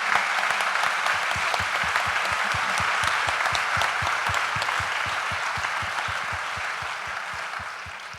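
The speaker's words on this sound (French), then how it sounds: "On peut les applaudir." An audience applauds the volunteers of a literary festival, sustained dense clapping that stays steady and loud for several seconds before easing slightly toward the end.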